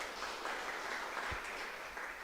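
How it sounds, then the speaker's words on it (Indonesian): Audience applause at a high school graduation day ceremony, a continuous wash of clapping that sounds distant and faint, steady throughout with no voices on top. "Kasih tepuk tangan kita semuanya."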